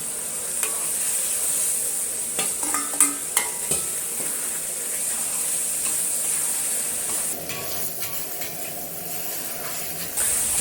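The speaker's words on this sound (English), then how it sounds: "stir fry over high heat for about 20 seconds" Beef and sauce stir-frying in a wok over high heat: a constant loud sizzle and hiss, with scraping and clinking of the spatula stirring against the metal.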